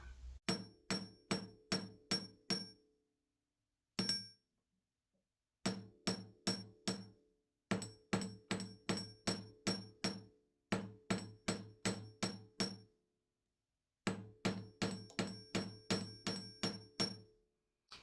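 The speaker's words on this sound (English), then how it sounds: "I'm striking the round metal, and then I'm hitting back a couple of steps" A hammer striking a round metal wire frame for a pendant, ringing out in quick bursts of five to eight sharp, close, metallic taps separated by short pauses, with no voices.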